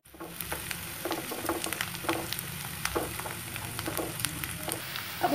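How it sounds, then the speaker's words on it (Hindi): Sliced onions and green chilies frying in a pan over medium heat, a close, steady sizzle with scattered crackles and the scrape of stirring, alone with no voices. "अब हम इसमें ये प्याज और हरी मिर्ची दोनों डाल देंगे। इनको चलाते रहेंगे हम इस तरह से"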